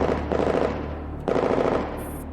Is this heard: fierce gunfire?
yes